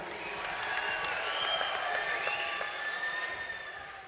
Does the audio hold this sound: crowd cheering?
yes